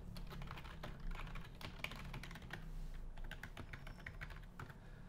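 Rapid typing on a computer keyboard, a dense run of close, crisp key clicks going on throughout without a pause, with no talking over it.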